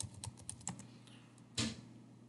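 Quiet, scattered keystrokes on a computer keyboard as a user ID and password are typed, a few light taps followed by one firmer press near the end.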